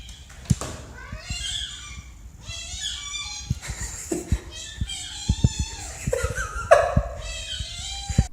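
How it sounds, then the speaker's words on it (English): A cat gives high, squeaky meows that sound like a squeaky toy, several rising and falling cries in quick succession, with children's voices and giggles mixed in nearby. "This cat sounds exactly like a squeaky toy."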